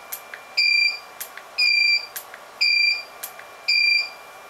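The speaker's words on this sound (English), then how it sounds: "let's see if there's actually any difference in the beeping, which it's letting us know the recycling is done" Four long electronic beeps in steady succession from an Elinchrom Style RX 300 studio strobe signalling recycle complete, each a bright two-tone electronic tone, with faint clicks between them; close and clear, no talking.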